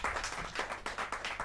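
Audience applause at a Hindi kavi sammelan poetry gathering, a short, moderately loud burst of steady clapping with no voices on top.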